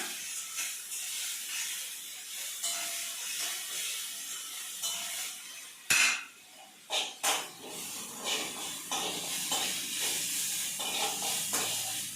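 Ginger garlic paste with a little turmeric sautés in a hot pan, a loud, steady close hiss of sizzling with a few sharper bursts of spatter and stirring midway.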